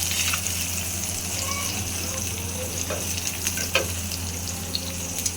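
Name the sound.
teasel gourd (kakrol) frying in a pan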